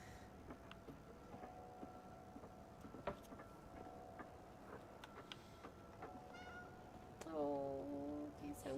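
Cats meow inside a Vatican level of Indiana Jones and the Great Circle, a few soft, distant calls over quiet game ambience and ticking, ending in a louder, drawn-out meow.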